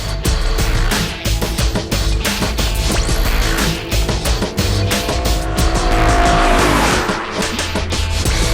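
A loud BMW M3 Frozen Edition sports car engine roars and revs hard, rising and falling through gear changes, close and aggressive, with a brief tire squeal.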